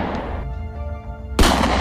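A sniper rifle fires once in a shooting video game: a single loud, sharp report near the end, following a steady bed of game background noise.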